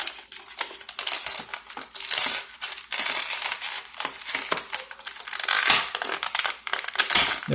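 Plastic toy packaging crinkles and crackles as a Spin Master Batman combat figure is pulled free by hand, a dense run of close, busy rustling that continues without pause.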